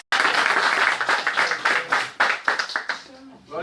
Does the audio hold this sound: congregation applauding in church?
yes